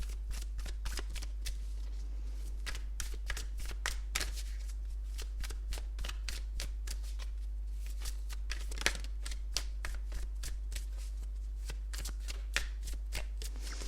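Tarot cards are shuffled and pulled in a long run of quick, crisp riffling snaps and flicks, close and steady under a low constant hum.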